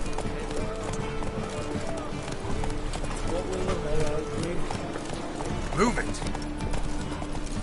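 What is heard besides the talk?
horse hooves galloping in video game Witcher 3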